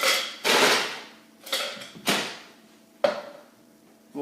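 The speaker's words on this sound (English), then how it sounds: "I'll add some ice." Ice cubes drop into a bartender's cocktail shaker while a Bloody Mary is being made: four or five sharp clattering hits, each with a short metallic ring that fades before the next.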